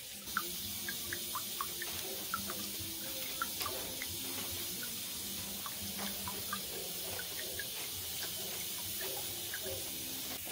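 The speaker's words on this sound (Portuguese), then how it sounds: "estamos tirando aqui a água do coco" Water drained from a coconut during cooking trickles and splashes steadily into a container, a continuous close liquid sound with small drips throughout.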